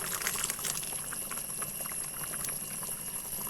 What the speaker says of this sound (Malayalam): ഞാനിപ്പോൾ തേങ്ങ അരച്ച് വെച്ചത് ഒഴിക്കാൻ പോകും കേട്ടോ